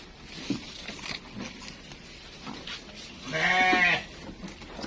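Sheep kept for sale on a farm make scattered soft noises and rustles before one clear, nearby bleat rises and lasts nearly a second near the end, over quiet outdoor background sound.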